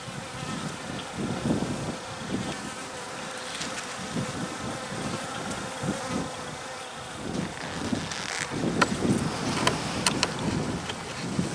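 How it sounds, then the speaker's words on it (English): Honey bees buzz around an opened hive with newspaper between boxes, a dense, continuous drone close by with individual bees zipping past, lightly buffeted by wind. "There's still a lot of bees up here"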